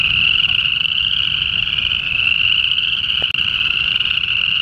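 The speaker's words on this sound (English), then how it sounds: "I hear the spring peepers making a lot of noise" A dense chorus of spring peeper frogs calls from a pond in Iroquois Park on a February morning: a steady, loud, high-pitched peeping that runs unbroken throughout, with a faint low rumble underneath.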